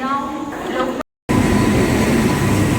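The Lokmanya Tilak Terminus–Madgaon express rumbles loudly into the station nearby, a steady rolling roar of rail noise after a brief cut, with a voice speaking over the start.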